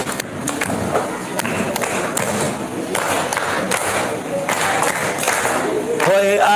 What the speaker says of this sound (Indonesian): Coba semua yang hadir ini tepuk tangan